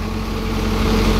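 A roughly 70 HP two-cylinder tractor diesel with an inline pump runs at a steady idle, a low even throb heard close and alone for a brief moment.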